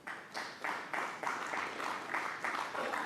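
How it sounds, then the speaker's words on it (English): Crowd applause in a snooker arena during a Welsh Open match, a steady wash of many hands clapping that swells in repeated bursts across the full few seconds, fairly close and even in loudness. "Crowd applauding because snooker's required."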